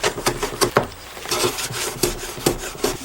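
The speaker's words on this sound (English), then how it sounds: "I'm just going to plane this flush" Repeated rasping strokes of a hand plane shaving a wooden toolbox drawer flush, a quick rhythmic series of scrapes close up with a short pause in the middle.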